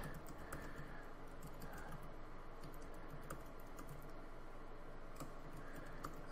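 Fingers type on a computer keyboard, a quick, faint run of soft key clicks that continues steadily throughout, with no talk.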